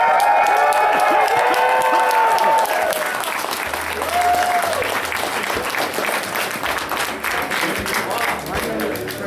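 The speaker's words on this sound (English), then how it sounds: "I need to hear a huge round of applause for Drew and Darkley." A crowd at a convention closing ceremony gives a loud, sustained round of applause and cheering for two people. Scattered voices are mixed into the clapping, which fades slightly toward the end.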